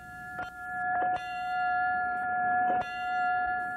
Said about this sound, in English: The ringing bell symbolizing his last alarm.